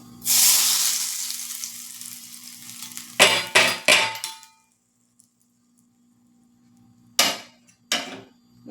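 Hot mustard seed tempering hits gram flour batter with a loud, sharp sizzle that fades, followed by several metallic clanks of a pan and spoon, then quiet and two more clanks.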